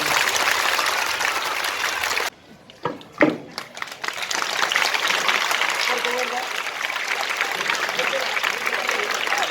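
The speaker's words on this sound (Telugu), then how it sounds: "వీళ్ళకందరికీ కూడా గట్టిగా క్లాప్స్ కొట్టండి ఒకసారి" A crowd claps loudly and continuously at a government school event in Adoni, pausing briefly before the applause swells back up and carries on.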